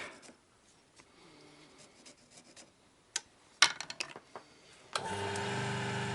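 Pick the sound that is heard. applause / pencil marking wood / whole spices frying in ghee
pencil marking wood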